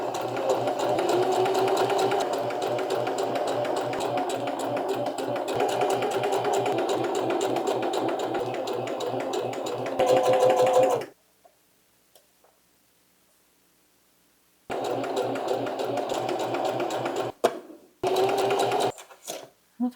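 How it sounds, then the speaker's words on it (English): A sewing machine stitches a neckline seam with a fast, even mechanical whir that runs for about eleven seconds. It stops during a quiet pause, then starts again in two shorter bursts. "Sew the neckline together."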